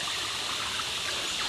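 Creek waterfall pouring steadily outdoors, a constant close rush of splashing water with no talking.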